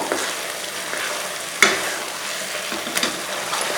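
Bombay halwa mixture stirred in a pan: a loud, even hiss of cooking with soft scraping throughout and two sharp clinks of the utensil against the pan, no voices.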